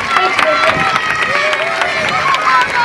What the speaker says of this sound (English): let's give our new trainer a big round of applause for helping us out